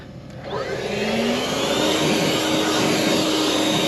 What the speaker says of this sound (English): Blow the dust off everything.